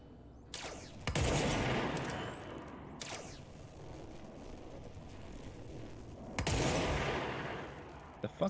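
Bursts of video game gunfire crack out in a few separate volleys, loud and close, with quieter scattered clatter and thumps between them in an elevator scene.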